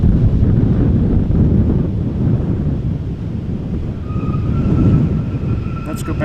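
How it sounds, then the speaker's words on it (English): Strong wind buffets a camera microphone outdoors at Amsterdam Schiphol Airport, a loud rumbling roar that surges and eases in gusts, with a faint distant tone appearing toward the end. "And then this up and back and forth thing is definitely the wind."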